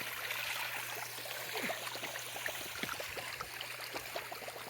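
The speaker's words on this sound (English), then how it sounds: "we got our waterfall going" Soft, steady trickling and splashing of an inground pool waterfall, quiet and continuous with a faint low hum beneath.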